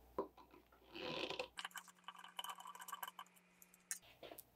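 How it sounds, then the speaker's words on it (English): Removing the carbide knives from a DeWalt DW735 planer's Shelix cutterhead by hand with a Torx bit, close, quick metallic clicks and ratcheting ticks in irregular bursts. "I'm going to do these by hand to remove all of the carbide knives."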